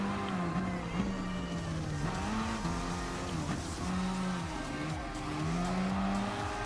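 Renault Sport Megane race cars in a racing video game, engines droning loudly and steadily with the pitch rising and dipping through repeated gear shifts and throttle lifts, no voices.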